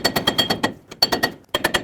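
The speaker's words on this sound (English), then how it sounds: "you can hammer a screwdriver in here" Rapid metallic hammer blows drive a screwdriver into the CV axle cap on a 1996-2002 Toyota 4Runner front axle, coming in three quick bursts of closely spaced, loud, sharp strikes with brief pauses between.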